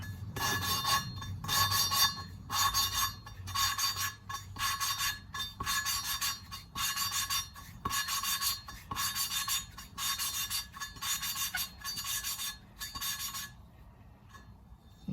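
Engine valves are being hand-lapped into their seats during an engine build, giving a regular series of about a dozen short, gritty rasping strokes, close and fairly quiet, which stop near the end.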